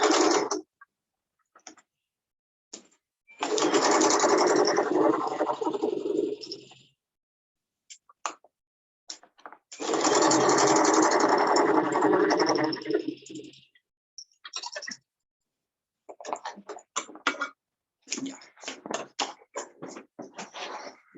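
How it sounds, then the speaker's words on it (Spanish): A sewing machine stitches pink fabric for a pocket, running in two long, steady mechanical bursts of a few seconds each, separated by clicks and handling noises, close and with no speech. "voy a aprovechar de coser al tiro el de color rosado"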